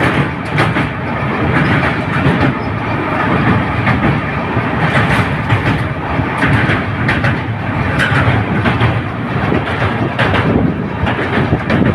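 The Sealdah-Balurghat Express (13189) runs steadily along the rails with a loud, continuous rumble and rhythmic wheel clatter, close and unbroken from start to finish.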